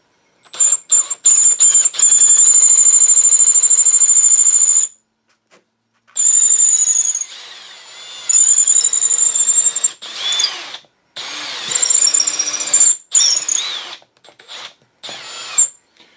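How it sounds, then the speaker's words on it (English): A power drill whines at high pitch in several bursts into straight-grain wood, running for a few seconds at a time with brief silences and squealing as it bites. "turn the camera on when I'm ready to pull the trigger on the drill"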